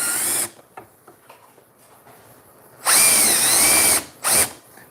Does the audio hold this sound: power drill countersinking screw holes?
yes